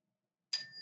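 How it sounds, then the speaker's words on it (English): A mindful bell is struck once after a moment of silence, its clear, close tone ringing on and sustaining to the end. "We'll grab our mindful bell."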